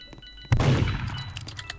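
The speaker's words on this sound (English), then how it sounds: "I just heard the gun" Gunshot in the Roblox game Murder Mystery 2, a single sharp loud bang followed by a short decaying crash, then faint game sounds.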